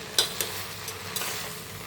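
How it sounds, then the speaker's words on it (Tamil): Greens sauté in oil inside a pressure cooker, giving a short burst of soft sizzling with a few sharp utensil scrapes and taps, close by and without speech. "இது நல்லா வதக்கிடலாங்க"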